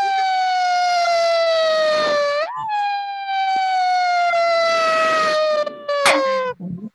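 An ambulance siren wails loud and close in long continuous sweeping tones that rise and fall in pitch, with a brief break partway through before the wail resumes.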